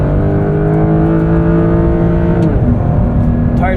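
A 2025 Porsche 911 GTS (992.2) in Sport Plus mode on Goodyear tires accelerates hard, its engine drone loud and close throughout with a distinct shift in pitch partway through, and no talking.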